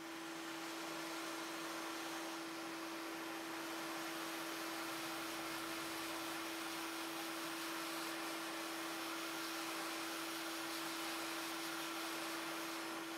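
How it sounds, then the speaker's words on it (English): A hot air rework tool blows steadily over a Steam Deck circuit board, giving a continuous airy roar with a constant fan whine throughout, unbroken and fairly close, with no talking. "I think I'm just gonna use hot air on the bottom side of the board."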